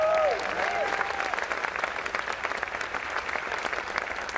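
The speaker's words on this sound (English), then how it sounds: "Can you give a round of applause for that?" Sustained applause from a crowd at a speech by US President Joe Biden in New Mexico, dense steady clapping throughout, with a brief voice at the very start.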